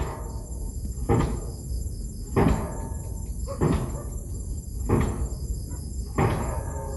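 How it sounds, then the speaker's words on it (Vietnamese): Diesel pile hammers drive foundation piles for the Rạch Miễu 2 bridge in Bến Tre, five heavy booming strikes at a slow, regular pace, heard at a distance over a steady high insect-like drone. "những cái búa diesel, những cái búa này đóng làm cọc móng cầu nè"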